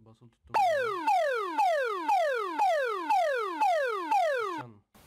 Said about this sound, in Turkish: Telefondan bir alarm çalıyor.